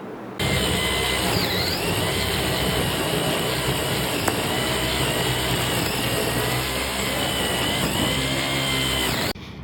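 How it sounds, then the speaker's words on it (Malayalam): Remote-controlled, battery-powered grass cutting machine built by electrical and electronics students, running with a steady whining motor hum and constant mechanical buzz from start to end, loud and close. "റിമോട്ടിൽ നിയന്ത്രിക്കാവുന്ന ഗ്രാസ് കട്ടിംഗ് മെഷീൻ വികസിപ്പിച്ചു"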